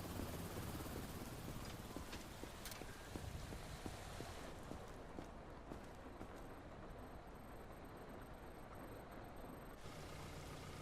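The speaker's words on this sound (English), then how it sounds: "So now it's time for the evac helicopter." An evac helicopter hovers in the zombie game Quarantine Zone, a steady rotor rumble mixed with a constant rain-like hiss that fills the whole stretch.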